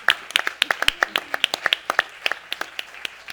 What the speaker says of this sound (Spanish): Un aplauso para Noa